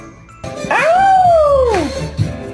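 A dog gives a single drawn-out, rising and falling howl-like woof on command, loud and close, followed by a short soft yip at the end.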